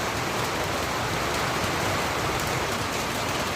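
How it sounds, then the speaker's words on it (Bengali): Heavy rain pours down steadily during stormy low-pressure weather, a dense, loud, continuous wash of drops hitting surfaces with no pauses and no voices. "দেখো বন্ধুরা কত জোরে বৃষ্টি হচ্ছে"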